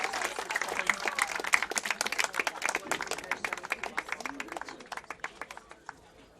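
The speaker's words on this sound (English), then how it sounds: "One more round of applause for Daniel Angulo and all of our 2023 men's soccer senior class." Crowd applause at a men's college soccer Senior Day ceremony honoring the 2023 senior class, crisp individual claps from a modest crowd that thin out and fade toward the end.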